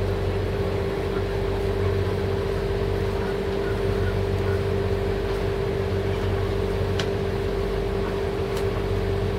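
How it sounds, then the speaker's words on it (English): A Formula Express Cruiser of about 40 feet with twin diesel engines gives a steady low engine drone and hum as it is untied at a dock, continuous and moderately loud, with a few faint clicks. "This is a Formula Express Cruiser in the 40-foot neighborhood, twin diesel."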